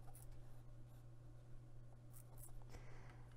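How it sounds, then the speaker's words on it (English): A pen or marker drawing a line across the wrong side of a zipper on a sewing workbench, a faint, steady scratchy stroke over a low constant hum, with no talk. "I'm going to be measuring 1 inch down from the cut edge and drawing a line"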